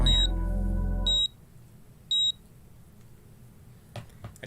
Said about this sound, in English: A tiny beeping sound caught Kano's attention.